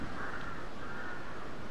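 A bird in Dark Souls 2 gives two drawn-out, harsh caws, one after the other, over a steady bed of low in-game ambience.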